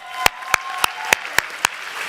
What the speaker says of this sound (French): vous n'avez pas fini d'applaudir